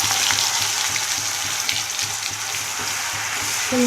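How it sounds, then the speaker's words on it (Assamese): Ginger, garlic and onion paste frying in hot oil with cumin seeds for an Assamese mutton curry makes a continuous bubbling sizzle with light rhythmic spatter throughout. No voices are heard. "এতিয়া আদা নহৰু পিঁয়াজৰ পেষ্টটো ইয়াতে দি দিছোঁ"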